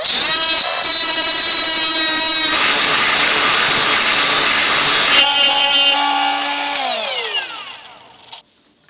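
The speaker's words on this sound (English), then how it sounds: "which require me to do a little grinding" A power grinder bites into a steel pulley puller, screeching loud and close for several seconds before the motor winds down and the whine fades away.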